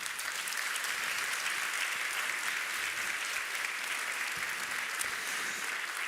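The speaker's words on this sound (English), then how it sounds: "let's give a round of applause to the organizers" A large audience at a design award ceremony applauds the organizers, a steady, dense wash of clapping that holds evenly from start to finish with no talk over it.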